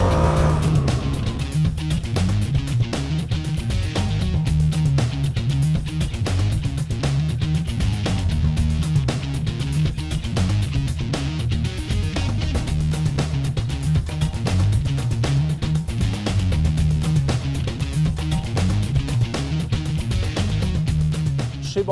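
A Bombardier BRP four-wheel-drive quad ATV with power steering runs at a steady engine drone for the whole stretch, close and continuous, with no talking over it.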